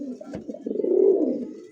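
A domestic pigeon gives one low, throaty coo that swells and fades over about a second, close by, just after a short click.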